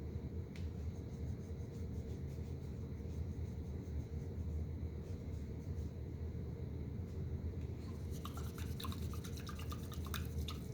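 A paintbrush used for acrylic painting being rinsed in water, heard as a steady close swishing and sloshing with a low rumble underneath and brighter splashy ticks toward the end, with no talk.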